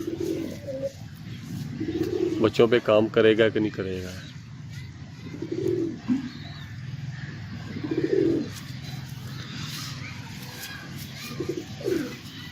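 A Teddy Cross breeder pigeon coos in soft, low, repeated bursts close by, while someone speaks over and between the calls.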